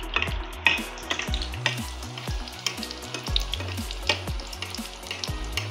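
Mughlai paratha frying in hot oil in a pan: a continuous close sizzle with bursts of crackling and popping throughout, no voices.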